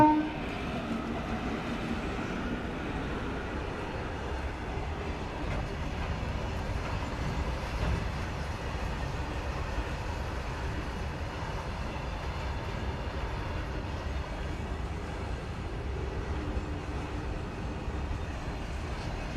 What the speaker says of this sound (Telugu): రైల్వే గేట్ పడిన తర్వాత ఈ యొక్క ట్రైన్ అనేటువంటిది వెళ్తుంది